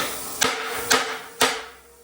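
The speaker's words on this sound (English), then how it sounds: "Let me get the hammer over here." Three sharp hammer blows strike double layers of rusted old metal at an even pace, each ringing briefly before the next, close and loud with no talking.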